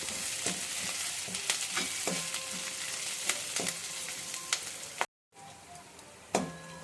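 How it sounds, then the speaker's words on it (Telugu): Curry leaves and green chillies fry in a pan with a steady close sizzle, punctuated by repeated clicks and scrapes of a spoon stirring, with a brief dropout near the end. "వేసి మొత్తం ఇవి కొంచెం పచ్చిమిర్చి మగ్గే వరకు ఇలాగా కలిపెడుతూ ఉందాము"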